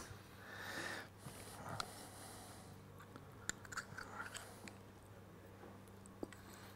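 Close, quiet chewing of an amuse-bouche with yogurt, eaten from a spoon, heard as soft, wet crunching and squishing bites with small sniffs in a hushed room.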